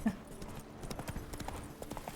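Roach the horse clip-clops along in The Witcher 3, a quick, even rhythm of faint hoofbeats heard fairly close over a soft game ambience.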